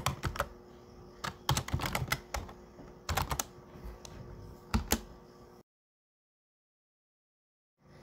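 Someone types on a computer keyboard close by, irregular bursts of key clacks with a few louder thumps, then the sound stops dead into silence for about two seconds before a final faint tap.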